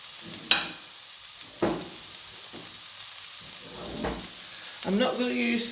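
Peppers hit a hot pan for a sausage, bean and lentil stew, a steady sizzle and fry crackle running throughout with a few stirring knocks and a louder sputter near the end.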